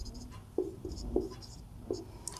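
Pen scratching on paper while writing math notes for a class 12 lesson, in short separate strokes with small pauses, quiet and close with no talk over it.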